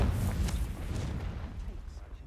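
A Confringo spell explosion in Hogwarts Legacy erupts as a dense, rumbling blast that booms loudly at first and then rolls away into a fading roar.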